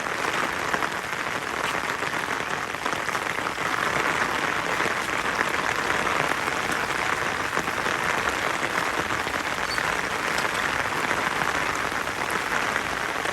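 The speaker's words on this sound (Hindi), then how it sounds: "तेज़ हो जानी है अभी बारिश" Rain pours steadily over a flooded home yard with shrubs and pomegranate trees, a constant close hiss of drops striking leaves and standing water, unbroken and even throughout.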